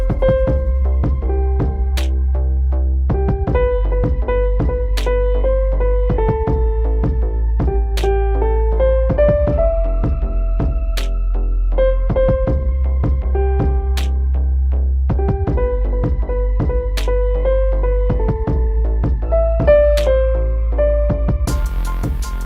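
A piano picks out the melody of a song at a slow 80 beats per minute over a steady, heavy backing track, each note struck clearly and evenly with no talking.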